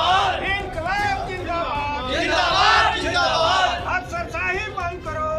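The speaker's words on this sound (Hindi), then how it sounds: "अभी आप इस कार्यालय में कर्मचारियों की जो भीड़ एवं धरना प्रदर्शन देख रहे हैं" Employees crowded at a government office in protest, a loud dense babble of many voices shouting and talking over each other close by.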